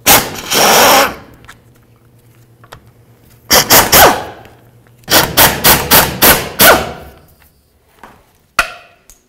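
Bursts of a power tool driving a 13 mm socket to remove rusted bolts on a 1992-99 GMC K1500 truck, with loud rapid rattling hammering in short separate runs and quiet gaps between them.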